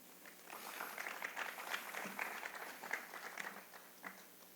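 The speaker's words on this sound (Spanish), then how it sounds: "Un aplauso para ella." A modest audience at a tribute event gives brief applause, fairly quiet and somewhat distant, with scattered clapping that swells and fades unevenly over a few seconds.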